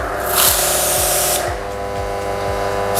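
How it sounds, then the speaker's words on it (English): A high pressure washer sprays through a Decon undercarriage cleaner attachment with four low nozzles, giving a loud, steady hiss of water jets with a rhythmic pulsing chug from the pump running underneath. "Here I've got my Decon BootyCleaner, and it's just attached to the high pressure washer"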